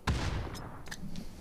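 Gunfire in a PUBG esports match at PGC 2022: a handful of sharp shots crack out one at a time with short gaps between them, fairly distant and mid-level in loudness.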